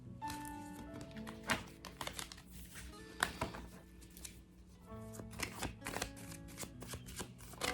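A deck of tarot cards is shuffled close up in repeated quiet riffling bursts with soft slaps and flicks between them, alone with faint background hum.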